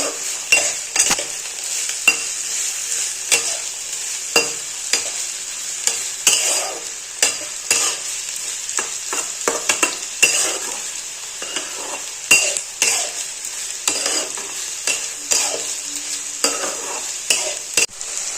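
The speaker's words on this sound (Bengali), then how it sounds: "কেটে রাখা সবজিগুলো এর মধ্যে দিয়ে দিলাম ভেজে নেবো" Chopped vegetables for vegetarian chow mein sizzle steadily in a pan while a spatula scrapes and clinks against the metal in quick, irregular strokes, close up and continuous with no voices.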